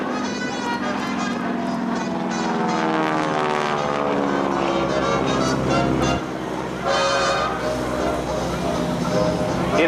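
A restored T-6 Texan propeller airplane flies at an air show, its engine droning loudly and steadily with a rising and falling pitch as it passes, a voice talking over it throughout.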